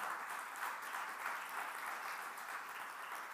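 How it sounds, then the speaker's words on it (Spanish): Steady applause from a church congregation, a dense wash of many hands clapping at an even level throughout with no voices over it. "Den el aplauso."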